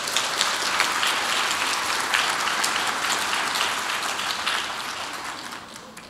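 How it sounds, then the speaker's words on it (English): An audience at a keynote presentation claps steadily in a dense, sustained round of applause that fades slightly toward the end, with no talking over it. "give yourself a big round of applause"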